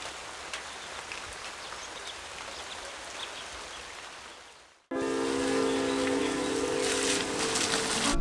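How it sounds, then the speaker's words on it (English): Steady rain falls outdoors onto wet, slushy ground at a rural lodge garden plot, a dense hiss of drops that fades briefly, then returns louder and closer with a faint tonal hum underneath. "It's raining, as you can see, and the ground is wet, slushy in certain parts."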